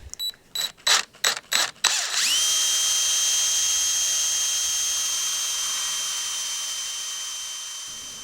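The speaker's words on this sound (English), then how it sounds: "I'm going to try to drill 2 holes to create that oval shape" A power drill bores into a wooden door jamb: a few short ratcheting bursts, then one long steady high whine that holds close and loud for several seconds before cutting off.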